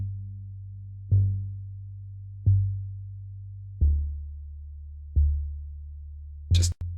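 Synthesizer arpeggio with modulation turned off, playing perfectly regular low plucked notes about every second and a half, each striking sharply and then decaying, ending with a brighter brief burst.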